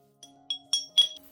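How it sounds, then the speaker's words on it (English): Grains of rice, about three tablespoons, drop into a clean glass cup, giving four or five bright separate clinks that grow louder, close and quiet otherwise, with no voice. "I use 3 tablespoons of rice like this and place them into a clean glass cup."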